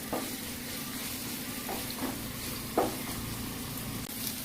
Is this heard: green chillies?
yes